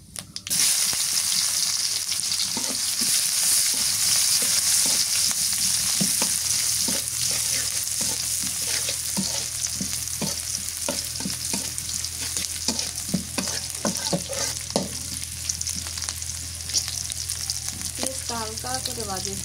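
Two dried chillies and chopped onion frying in a pan keep up a loud, steady sizzle for a long stretch, with frequent scraping and clicking strokes of a spoon stirring them close up.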